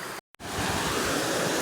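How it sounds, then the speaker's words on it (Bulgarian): Bohemian waterfalls along the eco trail in the Rila mountains, a steady close rush of falling water that drops out briefly before returning at full strength. "Бохемските водопади,"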